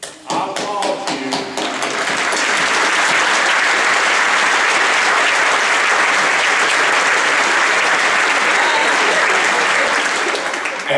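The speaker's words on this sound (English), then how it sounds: "I applaud you." A graduation audience breaks into loud, sustained applause, opening with a few distinct sharp claps that swell into a dense, continuous roar of clapping lasting throughout.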